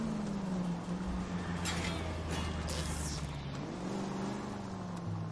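A stolen diplomat's car in the game L.A. Noire idles with a low engine hum, then revs up as it accelerates, the tone climbing and holding, fairly quiet and steady.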